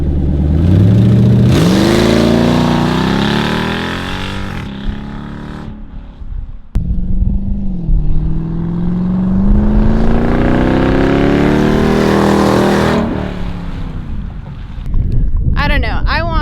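A Jeep SRT8 engine revs with no exhaust fitted, loud and raw, climbing through two long rising and falling revs with wind buffeting the microphone, then a short burst of revving at the end.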